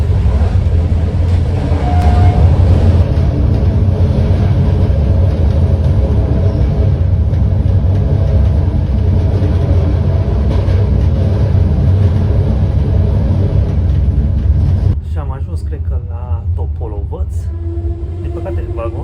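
Inside a moving CFR passenger train carriage, a loud, constant low rumble and rattling roar fills the space, with a voice speaking over it; the noise drops slightly near the end.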